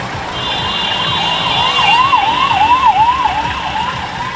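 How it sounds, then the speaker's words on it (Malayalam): An ambulance siren wails in a steady rising and falling pattern over road traffic on a trip to Hampi, holding loud and close through the whole stretch with no voices. "ആംബുലൻസ് ഒക്കെ പറന്നു പോകുന്ന എവിടെയെങ്കിലും തട്ടിക്കാണ്."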